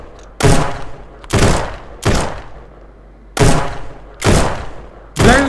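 Sniper rifle fire in a shooting video game: five loud, sharp single shots spaced roughly a second apart, each with a short booming decay, and no talking.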